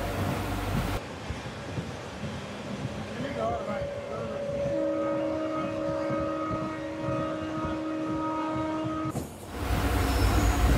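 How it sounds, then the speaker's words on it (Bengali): A train hauled by an Indian Railways WDP-4 diesel locomotive moving through a flat tea garden toward Siliguri, a steady rumbling run with sustained horn-like tones near the middle, heard from on board. "আর আমাদের ট্রেনটা সর্বোচ্চ গতি নিয়ে এই চা বাগানের ভিতর দিয়ে শিলিগুড়ির দিকে এগিয়ে চলেছে"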